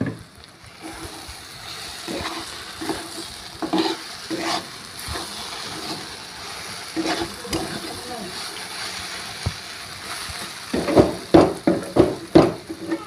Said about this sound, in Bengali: ভাজা প্রায় হয়ে এসছে